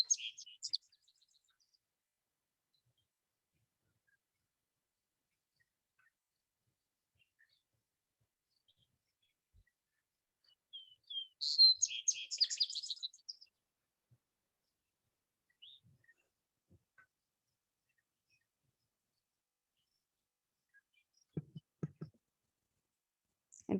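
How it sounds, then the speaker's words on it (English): Vesper sparrow song on a prairie, a short bright burst of trilled notes midway through, with faint scattered chirps around it and a brief low thump near the end. "Vesper sparrow."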